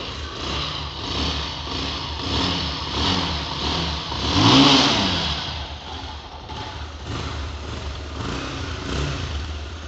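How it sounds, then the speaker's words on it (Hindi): A Bajaj Pulsar 220F BS6 motorcycle engine runs steadily close by, with rising revs and one stronger throttle blip near the middle before it settles back to a rough, continuous idle. "तो सुनिए इस बाइक का इंजन साउंड।"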